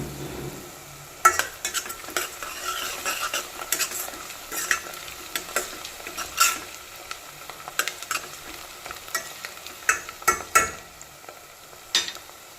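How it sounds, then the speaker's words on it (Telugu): Onions and green chillies frying in hot oil in a pan for a tripe and raw mango curry, giving a steady close sizzle broken by frequent scraping stirs and clinks of a spoon against the pan, with no talk. "ఆనియన్స్ వేగుతున్నాయి."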